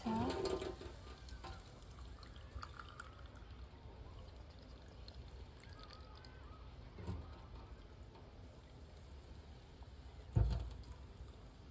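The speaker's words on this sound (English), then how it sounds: "I'm gonna start by filling in water." Water runs into a container in a soft, steady trickle for about ten seconds, faint and close, broken by a couple of light knocks.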